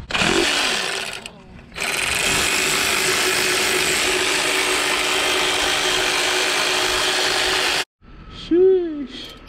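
Ratchet work removing the lower intake manifold bolts on a Nissan G35 engine, a long steady run of close, fast ratcheting clicks, then a pause and faint movement with a brief squeak.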